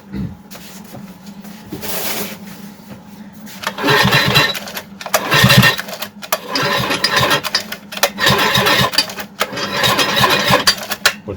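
Grunhelm GR-45 petrol brush cutter with a squeaking fault, cranked repeatedly without starting: several rough, rasping pull bursts of a small two-stroke engine, close and loud, separated by short pauses.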